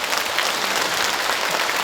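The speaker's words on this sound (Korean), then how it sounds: "박수 한번 서로 주고받으면 어떨까요?" A seated audience at a civic talk concert in Andong, marking the Andong mayor's second year in office, breaks into steady, dense applause that fills the room evenly for a couple of seconds, with no voices over it.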